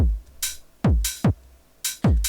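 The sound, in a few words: 909 drum machine open hi-hats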